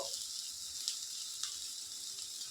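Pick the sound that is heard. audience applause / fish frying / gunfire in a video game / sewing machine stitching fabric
fish frying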